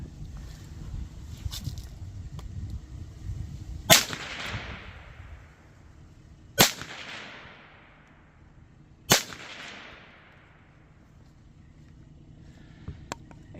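Three Winchester .22 WMR jacketed hollow point rounds fired from a 21-inch semi-auto rifle, sharp loud cracks a few seconds apart, each trailing off in a short outdoor echo.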